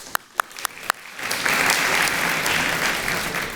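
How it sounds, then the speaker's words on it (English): Audience applause at a talk on virtue, starting with a few sharp isolated claps, then swelling into sustained, dense clapping from a room full of people. "give him a round of applause"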